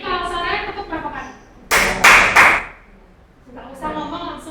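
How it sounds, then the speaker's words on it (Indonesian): Three sharp hand claps in quick succession, loud and close, with talking before and after. "kalau sore tepuk berapa kali?"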